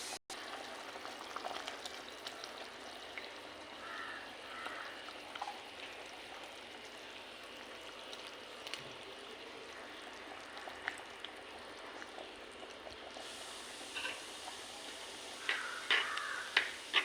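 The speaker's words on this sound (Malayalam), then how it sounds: "അപ്പോൾ കറി തിളച്ച് അതിലോട്ട് മീൻ വാരിയിടാം." Tuna curry boiling in a pot, a faint, steady bubbling and simmering texture that continues evenly throughout with no voices.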